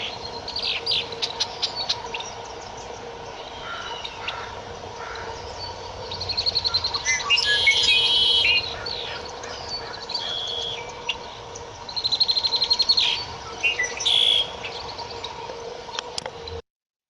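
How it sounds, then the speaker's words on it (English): A leucistic red-winged blackbird sings outdoors, its trilling calls repeating at a moderate distance over a steady background hum of wind and ambient noise, with a few sharper chirps rising between phrases. "it sings just like a normal red-winged blackbird"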